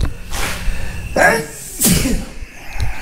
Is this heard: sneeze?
yes